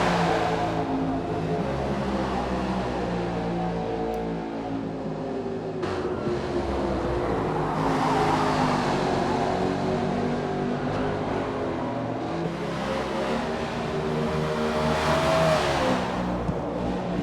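BRL stock cars racing at Maple Valley, engines droning and revving steadily, with a cluster of cars passing at mid distance as a continuous roar that swells and fades.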